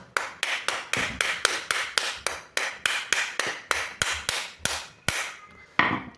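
Sharp metallic hammer blows on a Volkswagen Touran door handle, struck from inside the door, come in a rapid, fairly even series, about two per second, loud and close with brief gaps between hits.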